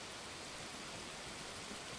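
Steady rain falls in the Arma Reforger game world, a soft, even broadband hiss that holds without a break at low level, with no distinct drops or thunder standing out.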